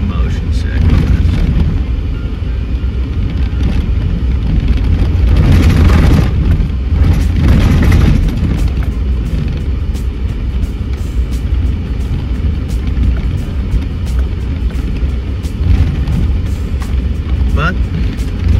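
A vehicle rolls down a bumpy rural ranch road with a steady, loud low rumble and occasional heavier thumps, while a voice talks over it.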